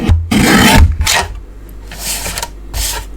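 Cardstock being trimmed on a paper trimmer for handmade Stampin' Up! cards, giving several short raspy slicing strokes at close range, separated by brief pauses, with no talking.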